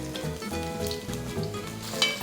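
Onions sizzling and frying in hot ghee with garlic for a fish masala, a steady close crackle with light stirring throughout, no voices.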